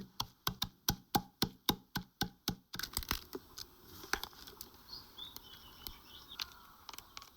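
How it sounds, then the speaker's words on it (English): A pestle pounds shelled freshwater crabs in a mortar, about a dozen sharp, evenly spaced strikes in quick rhythm, then softer, irregular thumps and scraping as the pounding continues, close and clear with no talk. "Freshwater crabs are shelled and pounded over and over again until the umami is thoroughly released."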